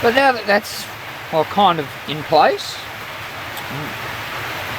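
Steady rain hisses and patters on a tin roof throughout, continuing beneath someone speaking in short bursts.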